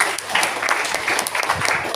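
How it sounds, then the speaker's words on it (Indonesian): A church congregation claps during a Sunday morning worship service, with dense, steady applause running through the whole stretch at moderate loudness and no clear voice on top. "Tepuk tangan bagi Allah kita."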